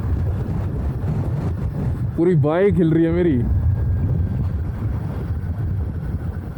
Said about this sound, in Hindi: इतनी तेज़ हवा चल रही है ना